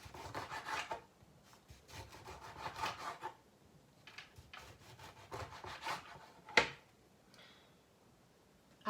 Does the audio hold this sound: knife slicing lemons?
yes